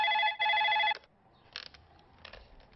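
A telephone rings indoors with two bright electronic trills in a row, then quiet room sound with faint handling noises.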